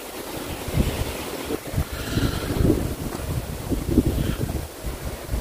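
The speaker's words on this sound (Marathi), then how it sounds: "आणि वारा तुफान सुटला आहे" Strong wind roars over Shivneri hill fort, a loud continuous gusting rush buffeting the microphone with surging swells and no voices.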